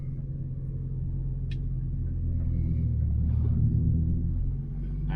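4WD vehicle in low range off-road with its tires spinning: a loud, steady low engine rumble and drone close by, rising slightly in the middle, with faint scraping and crunching on top.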